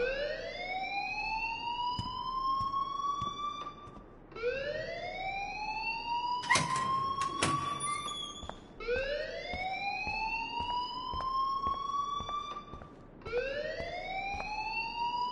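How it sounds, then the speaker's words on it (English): A fire alarm in the Life is Strange video game wails in repeated rising sweeps, each lasting about four seconds, loud and continuous with brief clatter partway through. "please turn off that alarm since that's your job"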